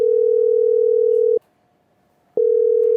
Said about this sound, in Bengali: ফোন তো ধরে না।